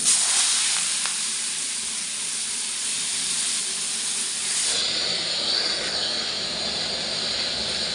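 Green chillies and panch phoron spices sizzle in hot oil with a loud, close, steady hiss that softens a little partway through, and no voices are heard.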